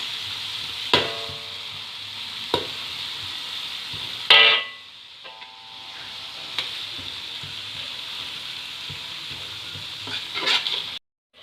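Tuna cooked in balado spice paste crackles and sizzles in a pan, broken by a few sharp clanks of a utensil against the pan during stirring, with one louder burst then a quieter steady fry.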